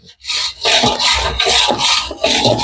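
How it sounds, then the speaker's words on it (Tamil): A spoon or spatula scrapes repeatedly through a thick coconut burfi mixture with milk powder in a pan, making loud, rhythmic rasping strokes roughly every half second with no voices over it. "நல்லா கிண்டி கொடுத்துக்கிட்டே இருக்கணும்"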